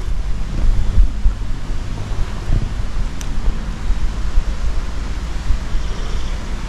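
Wind gusting through an abandoned, empty building with large open windows, a steady loud broadband rush with low rumbling buffeting and a brief faint knock partway through, no voices.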